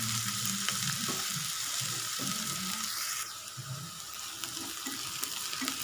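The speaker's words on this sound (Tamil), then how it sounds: "வெங்காயம் வதங்கிடுச்சு." Onions sautéing in a pan for pepper chicken gravy, a soft steady sizzle with faint clinks and stirring, fairly quiet and close, with no talking.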